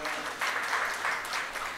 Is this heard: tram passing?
no